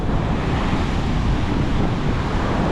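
Heavy ocean surf and strong wind on Flagler Beach, Florida, during Hurricane Idalia form a loud, continuous roar that buffets the microphone, with no pauses and no voices.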